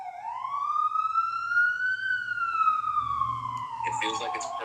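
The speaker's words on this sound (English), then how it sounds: "you can hear the freaking ambulance in the background." A wailing emergency siren, likely an ambulance, passes in the background near an NYC subway station, its tone rising then slowly falling over a few seconds, with a low traffic rumble and a brief clatter near the end.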